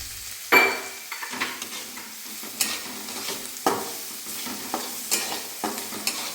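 A masala of homemade red chili powder and salt is sautéed for a traditional village-style horse gram kadan, with a soft continuous sizzle and repeated scraping strokes of a spatula against the pan at an uneven, steady rhythm.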